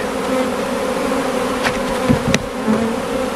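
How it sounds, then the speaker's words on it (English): A swarm of honeybees, the first of the year, fills the air with a dense, steady buzzing close by, with a few brief louder passes as individual bees fly near. "this is the first swarm of the year"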